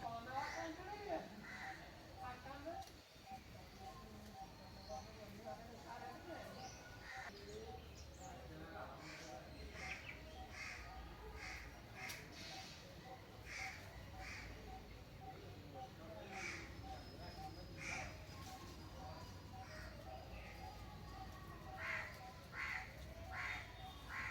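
A crow caws several times at a distance amid outdoor ambience, with other birds chirping faintly and people talking in the background.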